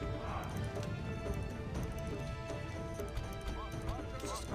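Horses galloping in a Roman-era battle video game, a steady drumming of hooves with occasional neighs under a dense battle din, with someone talking over it.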